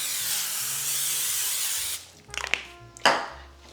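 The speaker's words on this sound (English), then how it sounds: "let's give this 9x13 a good spray" Cooking spray hisses in one steady burst lasting about two seconds as it coats a 9x13 baking dish, then gives way to a few light taps and clinks of the can and dish.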